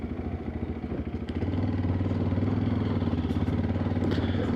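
A TVS Apache RTX 300 motorcycle engine thrums steadily as it climbs a trail in first gear, the throbbing firing pulses rising slightly in loudness and holding a close, even rhythm.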